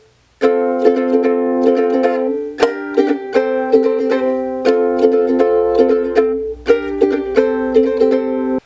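Ukulele chords of a song strummed in a steady rhythm, bright ringing strokes changing chord every few beats, close and clear with no voice.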